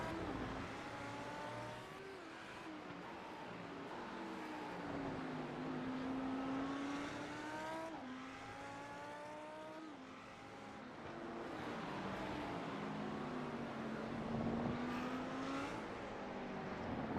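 A Lamborghini race car in a sim racing broadcast at Circuit of the Americas (COTA) revs through gear changes, a steady close engine whine climbing and dropping in repeated sweeps with no break.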